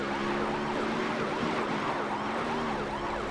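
A wailing emergency siren from the Beach Buggy Racing 2 video game, looping up and down continuously and loudly over engine hum, with no talk over it.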